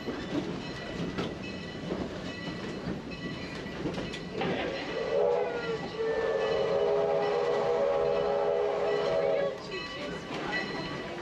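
A heritage park railway train rolls past with rhythmic clickety-clack and rumble, then a sustained whistle rises midway and holds for several seconds before fading, fairly close and loud, with people's voices mixed in.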